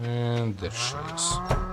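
A single cow in the farming video game Stardew Valley lets out a close, drawn-out moo that slides downward, loud and clear.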